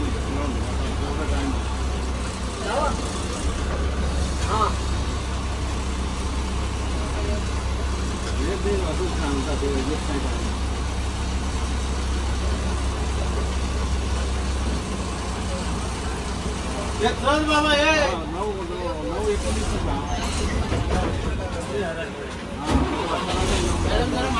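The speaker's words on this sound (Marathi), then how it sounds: "आपली गाडी मुंबई सेंटरवरनं निघालेली आहे." Engine of an ST state transport bus running as it pulls out of Mumbai Central, a steady low rumble throughout with brief surges, interior road noise, and a voice speaking over it near the end.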